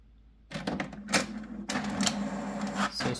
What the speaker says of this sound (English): So it's printing now.